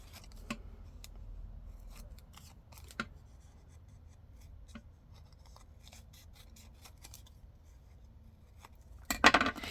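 Scissors snipping around paper labels for a junk journal, sparse sharp cuts scattered across a quiet room, with a louder burst of rapid snipping at the end.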